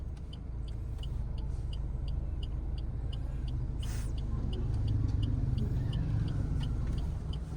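A car pulls away in first gear during a driving lesson: a low, steady engine hum swells slightly partway through, while a regular ticking repeats evenly in the cabin throughout.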